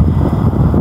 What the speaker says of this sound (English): I know it's windy here